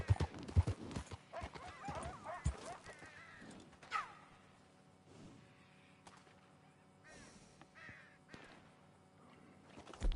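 A horse's hooves clip-clop and gallop in Red Dead Redemption 2, louder and closer at first and then fading to a softer, distant rhythm, with a neigh and a crow's caw mixed in.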